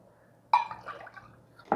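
Coconut milk is poured into a cooker pot holding washed raw rice, giving two brief liquid splashes about a second apart in a quiet kitchen.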